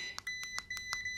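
A Kaiweets KM602 multimeter sounds its warning for a wrong lead connection, a rapid series of about seven sharp electronic beeps, close and fairly quiet, with no talking.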